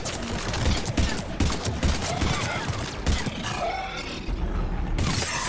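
Rapid gunfire in a Mass Effect firefight, bursts of cracking shots and mechanical clatter that rise and fall at close range, with voices talking over parts of it.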